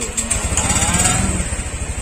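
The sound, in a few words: Honda Vario 125 motorcycle engine started and running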